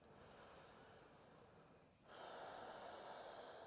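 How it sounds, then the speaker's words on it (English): Audible breathing during a vigorous vinyasa yoga class, a faint, steady airy exhale that swells noticeably louder halfway through and continues alone without talk. "Breathing with sound."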